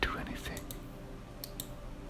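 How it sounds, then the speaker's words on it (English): A computer mouse clicks during a peaceful, pastel psychedelic video game, giving a few sharp, close taps spaced apart, with soft whispering and faint background hiss. "Clicking makes a sound, but doesn't seem to do anything."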